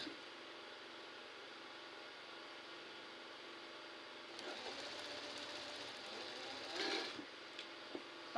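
A sewing machine stitches the facing of a boubou dress in a steady, close, even whir, growing louder and busier partway through before the needle stops.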